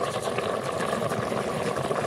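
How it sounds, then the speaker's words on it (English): Steady, soft bubbling and gurgling from a simmering pot of penne vodka sauce in an Instant Pot, continuous and close, with no talking. "And you hear that just bubbling away?"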